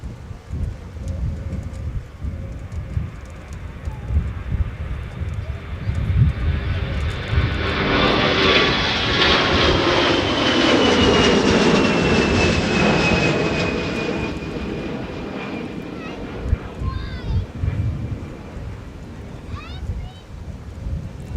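An airliner departs Minneapolis–St. Paul Airport on a crosswind day, jet roar swelling to a loud broad peak with a descending whine as it passes, then fading, with wind buffeting the microphone and a voice talking near the end.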